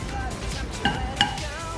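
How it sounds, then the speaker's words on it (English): A spoon stirs melting coconut oil and shea butter in a pot for lip balm, making a soft scraping swirl with two light metallic clinks against the side. "Keep stirring and make sure everything is dissolved."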